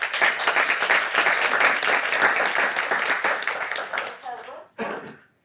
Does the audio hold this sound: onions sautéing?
no